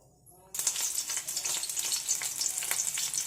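Green chillies hit hot oil in a kadai for a capsicum tomato curry, a faint quiet start that bursts into a loud, steady crackling sizzle with irregular pops and spatters throughout, close up and with no talking.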